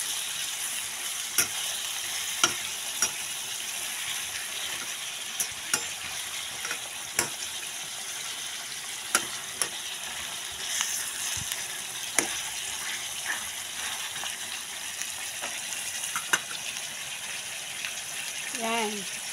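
Chicken adobo stirred in a frying pan, a continuous hissing sizzle punctuated by regular clicks and taps of the spoon against the pan, close and steady throughout.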